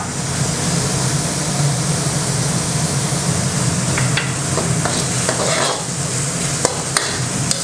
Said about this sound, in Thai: เดี๋ยวเราจะผัดกุ้งให้สุกนะครับ